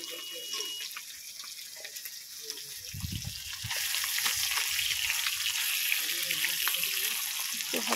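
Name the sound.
fish frying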